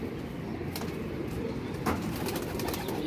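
A flying-breed pigeon coos softly against a steady outdoor background, with a faint flutter of wings as it takes off, and no voices present.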